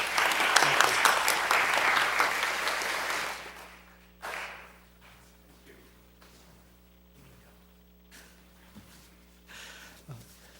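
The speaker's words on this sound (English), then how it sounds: "one more round of applause for these two proclamations so far" Audience at a Peoria city council meeting applauding proclamations, a full burst of clapping for about four seconds that then cuts off, followed by scattered hand claps, shuffling and faint room noise.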